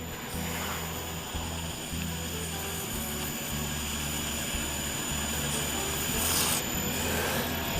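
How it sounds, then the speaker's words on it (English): Steady, continuous rasping and rubbing of hand sanding a burl wood shaving brush handle with sandpaper, close and even throughout, with a faint low hum underneath and no talking. "So these bits have got to be sanded more yet."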